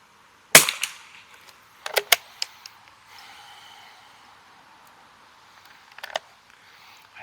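Sharp cracks from a vintage rimfire rifle fire outdoors among trees: one loud shot, then two close together, and a final pair several seconds later, each fading quickly into quiet.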